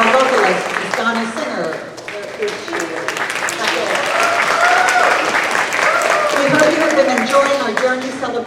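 Applause from a concert audience at a Christmas concert holds steadily across the clip, mixed with voices and other sound that rise and fall.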